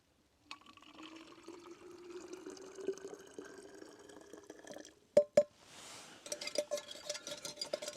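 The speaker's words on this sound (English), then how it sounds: "the rest of that hot water goes back into the water bottle" Hot water poured from a pot back into a water bottle at a snowy winter campsite, a steady rising gurgle for several seconds, then a couple of sharp clinks and a few short splashing bursts, close and fairly quiet.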